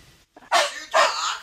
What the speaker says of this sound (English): Sally Sue, let the fucking dog out.